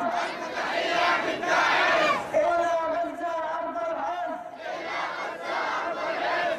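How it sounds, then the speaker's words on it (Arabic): Crowd at a rally in Taiz for Gaza and Al-Aqsa after Friday prayers, many voices chanting loud rhythmic slogans in waves that rise and fall, close and dense throughout. "شهدت مدينة تعز بعد صلاة الجمعة هتافات حماسية لنصرة غزة والأقصى"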